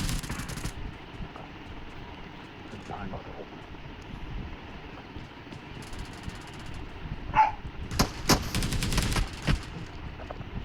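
Gunfire in the battle royale game BGMI during a team deathmatch, heard as sparse shots and then clustered rapid bursts near the end, mixed with other game noise and voices.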